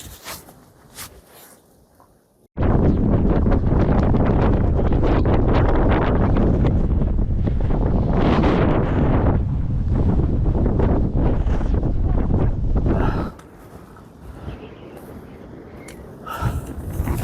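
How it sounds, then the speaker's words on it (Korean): Strong wind near a mountain summit in bitter cold blasts across the microphone in a loud, rumbling roar that starts abruptly, holds for about ten seconds, then drops to lighter gusts and rustling. "정상에 가까워지니까 바람이 좀 세게 불고 있습니다"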